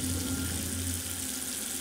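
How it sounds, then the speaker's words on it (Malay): Water runs steadily from a bathroom tap in an apartment in Port Dickson, as if someone is washing their face, a continuous even splashing flow with no voices. "Bunyi air macam orang tengah bercuci muka benda situ."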